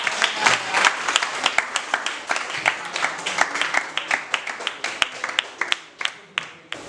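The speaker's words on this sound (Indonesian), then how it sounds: "Kita kasih aplaus dulu untuk teman" Classmates in a school classroom clap for a peer, a dense burst of hand claps that thins into scattered, sharper individual claps near the end.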